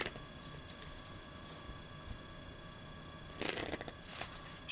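Crisp riffling of tarot cards being shuffled, with a soft continuous rustle and a couple of louder bursts of cards snapping together near the end.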